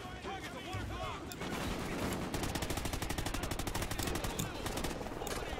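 Rapid automatic gunfire in the video game Call of Duty: Ghosts, a loud, continuous burst of tightly spaced shots with scattered single reports, a player's voice faintly under it.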